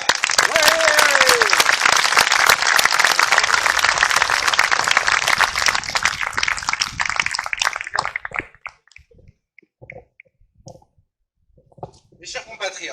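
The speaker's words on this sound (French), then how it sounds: "Je vous prie de faire un tonnerre d'applaudissements pour Philippe Murer." A crowd at a political rally in France applauds loudly with dense, sustained clapping that fades out after several seconds, leaving scattered claps and quiet.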